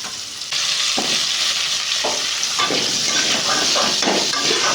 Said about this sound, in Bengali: এই তেলটাতে আলুগুলো ভেজে নেবো।